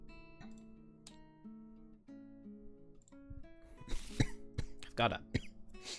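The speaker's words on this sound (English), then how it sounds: "I've got a cough" A few harsh coughs burst out near the end, close and fairly loud, after quieter background sounds and some murmured talk.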